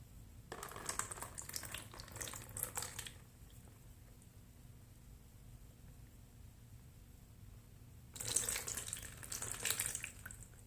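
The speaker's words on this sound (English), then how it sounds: "I have my bowl, and I have my towel, and my mug with the water. And so we pour one at a time." Water poured from a mug into a bowl for a handwashing rite, two separate splashing pours of a few seconds each with quiet between them, close and fairly soft.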